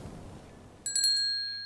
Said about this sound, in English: just about to close early when the entrance bell chimes